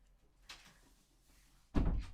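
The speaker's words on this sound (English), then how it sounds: "Can you close the door?" A door is shut with a dull, close thud near the end, after a faint tap and a quiet room.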